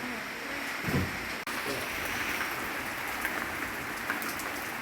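Rain falling on a rainy day, a steady close hiss of drops on surfaces filling the whole stretch, with a couple of brief knocks and a sharp click partway through.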